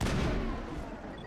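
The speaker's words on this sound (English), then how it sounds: "I want to be using my assault rifle." Assault rifle fire in Mass Effect, a dense burst of rapid shots packed into about a second, loud and close.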